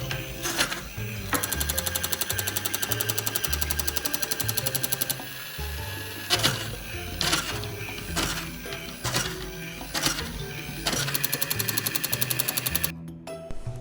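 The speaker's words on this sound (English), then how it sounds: "That's the noisy wheel responsible for the machine gun noise." A battery-powered crawling toy soldier's motor and gears drive a noisy wheel that rattles out a loud, rapid machine-gun chatter in repeated bursts of a few seconds each, mixed with a mechanical whir.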